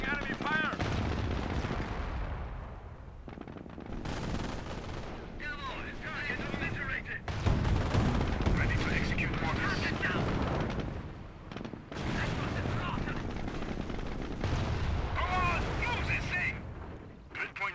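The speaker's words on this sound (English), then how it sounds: "We are taking enemy fire!" Enemy gunfire and artillery in Company of Heroes, a World War II battle at Wolfheze during Operation Market Garden: steady rattling bursts and booming blasts fill the scene, loud and continuous, while soldiers shout over the combat.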